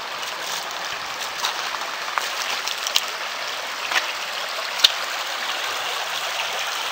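A small creek flows over bedrock in a gold-prospecting spot, a steady close rushing and babbling with occasional sharper splashes and no voices.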